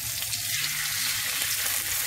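Sambal goreng pete with eggs sautéing in a pan, a steady broadband sizzle that holds evenly throughout with faint stirring underneath and no voices.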